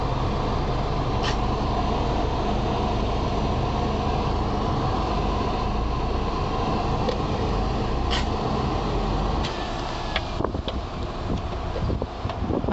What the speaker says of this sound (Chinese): 那个就是高铁，高铁火车，高铁火车。